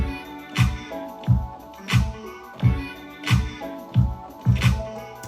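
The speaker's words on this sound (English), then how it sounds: "Really basic kick, nothing crazy" A basic compressed, EQ'd kick drum drives a simple dance-rock beat. Deep, punchy thumps land steadily about every two-thirds of a second over sustained tonal layers, with no talking.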